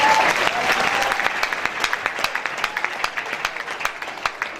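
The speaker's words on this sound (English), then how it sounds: "Can you clap your hand for Jesus Christ?" Church congregation clapping for Jesus Christ at an anniversary service, dense applause that starts as a broad wash and thins into sharp, rhythmic hand claps toward the end.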